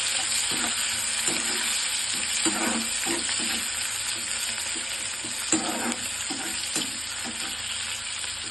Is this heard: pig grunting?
no